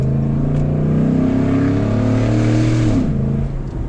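2014 Ford SVT Raptor engine running loud and close, holding a steady drone with revs shifting as the transmission drops down to second gear near the end.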